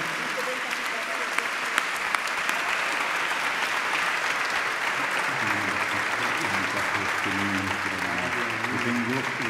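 An audience claps steadily at the opening ceremony of the 30th Valdivia International Film Festival, dense applause filling the hall from start to finish, with a few voices rising faintly beneath it toward the end.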